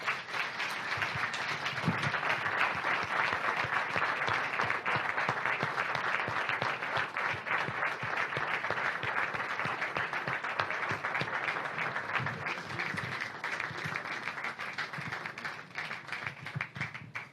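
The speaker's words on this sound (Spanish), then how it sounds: "os pido para él un caluroso y fuerte aplauso" Warm, sustained applause from a hall audience at the Diego de Covarrubias 2024 award ceremony for winner Alejo Vidal-Quadras, with dense clapping holding at a steady level for a long stretch before tapering slightly at the end.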